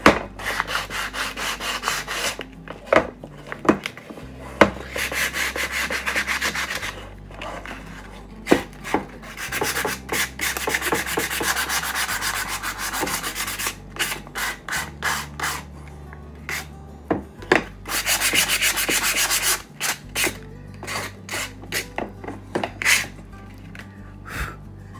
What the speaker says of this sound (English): So I'm gonna take a little sandpaper and rough up the edges.